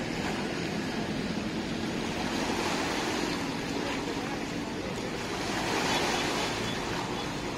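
Steady ocean surf at Manila Bay washing continuously, with a broad wind-like roar and no distinct breaks, heard alone and fairly close.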